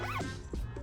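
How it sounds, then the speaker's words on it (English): A backpack zipper is pulled open in one quick rasping sweep, close and fairly quiet, followed by soft handling noises. "you have another zipper to go completely into this thing"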